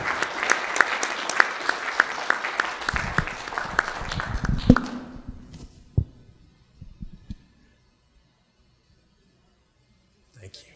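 Audience at a Rotary club meeting applauding for about five seconds, dense clapping with a few thumps before it fades, followed by quiet room noise and scattered faint sounds.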